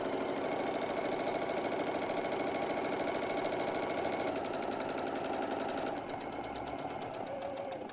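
A sewing machine stitches fabric for a hobo bag, running as a loud, steady, continuous whir that holds throughout and eases slightly in the final two seconds.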